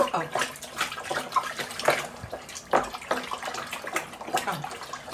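A thin stream of liquid is poured into a pot while it is stirred hard, giving a close, trickling, splashy sound with uneven surges and light clatter from the stirring.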